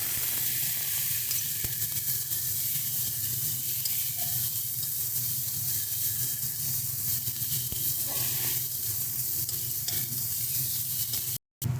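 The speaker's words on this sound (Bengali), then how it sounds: "আদা রসুনটাকে একটু ভালো করে ভেজে নেব" Ginger garlic paste fries in hot oil, giving a steady, close, unbroken sizzle with faint stirring underneath, cut off briefly near the end.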